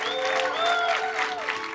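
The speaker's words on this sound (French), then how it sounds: "Moussa, mesdames et messieurs, on l'applaudit aussi." Applause from the audience at an Arabic-language comedy show in Montreal fills the room evenly and steadily, with a few tonal voice-like strands riding over the clapping.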